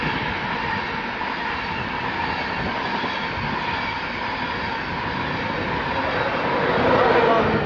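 A Class 66 diesel freight locomotive rumbles steadily past at close range through Hitchin station, a continuous heavy roar with faint rhythmic clatter, swelling a little louder toward the end.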